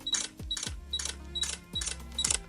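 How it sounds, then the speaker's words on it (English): A camera's mechanical shutter fires repeatedly, about six crisp, close clicks in a steady rhythm, with no talking. "You hear that? That's the sound of the shutter."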